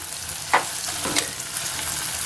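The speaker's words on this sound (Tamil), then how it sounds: "வெங்காயம் வதங்கிட்டு இப்ப அதோட கட் பண்ணி வச்சிருக்க தக்காளி பழம் சேர்த்துக்கோங்க" Tomatoes frying with sautéed onions in a clay pot give a steady broadband sizzle, with two brief stirring scrapes partway through; close and moderately loud, no talking.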